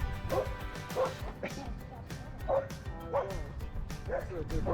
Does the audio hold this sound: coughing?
no